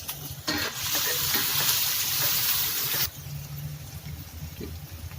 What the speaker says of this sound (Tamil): நம்ம இந்த இடித்த வெங்காயத்தையும் பூண்டையும் நம்ம இதில் போடுறோம்.